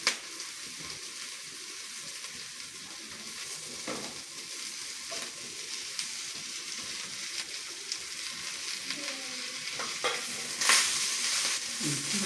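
Onions with green chili and chow chow (chayote) sauté in a pan, giving a continuous low sizzle. Repeated scraping and clacking spatula strokes are scattered throughout, with a brighter burst of crackle near the end.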